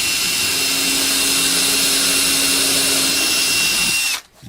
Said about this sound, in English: Let's drill a little more.